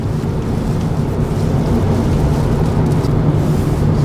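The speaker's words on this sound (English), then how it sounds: "But this is a real storm." Hurricane-force winter storm winds roar outdoors in Lofoten, Norway, a loud continuous low rumble of buffeting gusts pressing against the microphone without letup.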